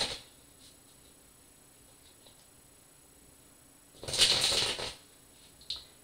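Tarot cards are shuffled in one brief papery riffling burst lasting under a second, close and fairly soft, with a small card tap afterward and otherwise near silence.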